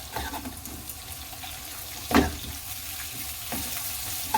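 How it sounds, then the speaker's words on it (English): Olive oil with onion, garlic and chili heats in a pan for Mediterranean-style okra. A soft sizzle runs underneath, with one sharp utensil clack near the middle and another, fainter one later. "So that was 2 tablespoons of olive oil, 1 small onion, 4 4 cloves of garlic, 1 small chili, and then I am just going to heat it up"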